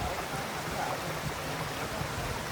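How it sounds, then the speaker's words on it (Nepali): A waterfall pouring down from above while standing right beneath it, a constant dense rushing hiss of falling water, steady and close with no talk. "झर्ना मुनिबाट माथिबाट बगिरहेछ, हामी ठ्याक्कै मुनि छौँ यहाँनिर।"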